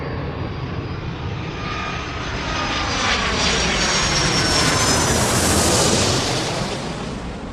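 An airliner in the game Airport Madness takes off, its jet roar swelling loud and close before easing slightly at the end, with no voices.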